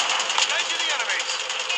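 Rapid automatic gunfire from a weapon in the Call of Duty Mobile battle royale game, a dense continuous rattle that stays loud and steady for the whole stretch.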